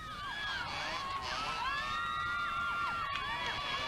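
Roadside spectators at the 1991 West Cork Rally cheering and shouting, a sustained crowd roar with whoops and children's cries, loud and continuous throughout.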